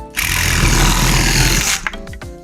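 A Parkside reciprocating saw with pendulum action engaged runs at full, steady loudness for about a second and a half, a dense buzzing roar that then cuts off, followed by a brief clatter as it winds down.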